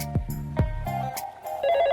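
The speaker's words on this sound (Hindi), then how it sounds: "अभी इसके बॉयफ्रेंड के पास फोन मिलाते हैं।" An electronic phone ring trills in short tonal bursts, close and clear, mixed with a few sharp clicks and thumps.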